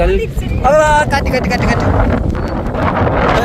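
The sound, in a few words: wind blowing outdoors by a river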